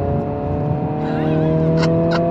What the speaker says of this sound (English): Heel toe downshift